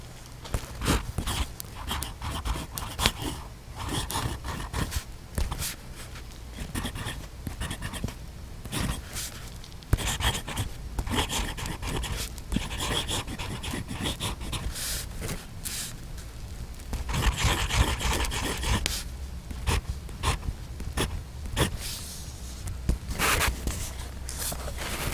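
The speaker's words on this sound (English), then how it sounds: "As you heard when the nib was next to the microphone, this is very smooth." Kaigelu 336 fountain pen nib scratching across paper close to the microphone, a steady run of soft, quick strokes with brief pauses.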